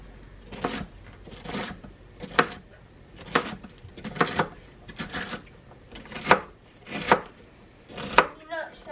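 Celery stalks chopped with a knife on a kitchen cutting board, about ten crisp, evenly spaced chops close by, each a sharp thud with a short crunch.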